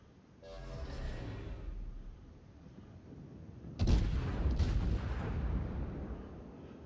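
A Des Moines cruiser fires heavy gun salvos in a naval battle video game, heard as deep booming blasts that roll off into a long rumble, with a second sharp volley midway.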